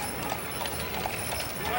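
A team of horses clip-clops along a street in a parade, steady rhythmic hoofbeats under a crowd's background murmur and voices talking.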